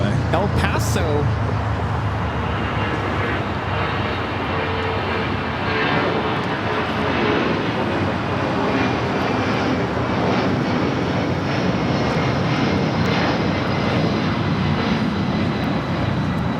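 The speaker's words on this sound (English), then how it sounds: "This is Delta Airlines 1884 taking off to Los Cabos on the 757-200" Delta Air Lines Boeing 757-200 taking off from Los Angeles, a loud, steady jet engine roar that holds strong and broadband for the whole stretch, with faint background voices underneath.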